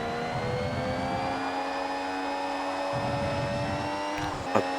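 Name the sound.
F1 race car engine in racing simulator video game, Silverstone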